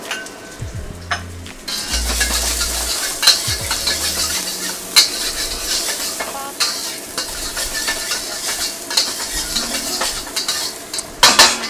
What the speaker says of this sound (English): that's my garlic, ginger, and the whites of my green onions going in